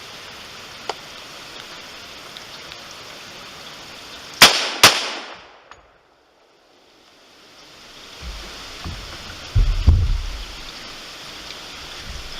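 Two sharp gunshots from a Remington Model 81 semi-automatic rifle ring out close together, followed by a brief metallic clink and a hush, then faint outdoor rustling and low thumps as spent rounds drop.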